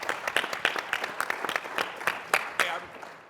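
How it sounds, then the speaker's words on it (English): An audience at a keynote Q&A panel at Vision Summit 2021 applauds a participant with sparse, distinct, fairly loud claps at an uneven rhythm, sometimes doubled, over light crowd murmur. "give George a round of applause for participating."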